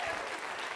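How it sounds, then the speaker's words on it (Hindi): A brief snatch of audience applause at a college quiz show, dense and steady but fairly faint, lasting under a second. "इस बात के लिए तालियां बजाइए उनके लिए आप"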